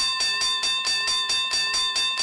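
A bright notification bell sound effect rings in rapid, evenly spaced strikes, about seven in a row. It is loud and close with a continuous metallic shimmer and no other sound.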